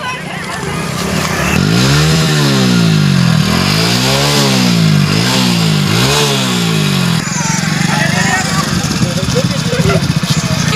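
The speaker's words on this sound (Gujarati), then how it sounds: "ચલો વાળી લો બાઈક" A nearby motorcycle engine revs repeatedly, rising and falling in pitch through several loud throttle blips before settling into a rough idle, with voices talking over it.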